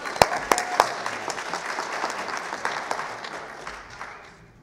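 Congregation applauding during a Sunday morning church communion service, a burst of claps that starts sharp and close, then thins and fades out over a few seconds.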